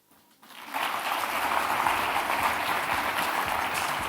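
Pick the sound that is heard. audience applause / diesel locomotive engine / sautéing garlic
audience applause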